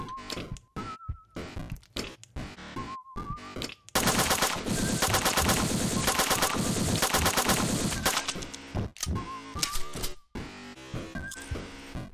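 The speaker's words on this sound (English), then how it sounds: "You receive the SMG." A submachine gun fires in rapid, sustained bursts in the video game Revenance. The dense, loud chatter runs for about four seconds between short electronic tones and quieter game sounds.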